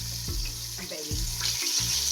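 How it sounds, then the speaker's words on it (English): A jollof rice base seasoned with dried thyme, curry powder and bay leaves sizzles in a pot as a spoon stirs it, with soft scraping strokes over a steady frying hiss. "And I'll give that a stir."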